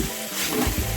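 Spices sizzle in hot oil in a pan while a soybean curry is being cooked, a brief, close crackling hiss with light stirring and no speech.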